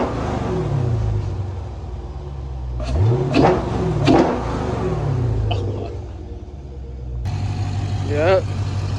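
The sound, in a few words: Dodge Scat Pack engine revving with JLT cold air intake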